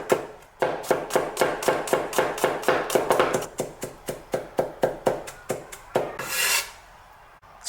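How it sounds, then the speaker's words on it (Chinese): A knife minces garlic cloves on a cutting board in a home kitchen: about two dozen quick, even chops land close and crisp in a steady rhythm, then stop. "几个蒜子给它切成蒜末。"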